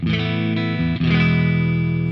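Electric guitar played through a ToneX Legacy amp model with the gain turned up, giving sustained, driven chords that ring on steadily and loudly with small pauses between strums, alone without talk.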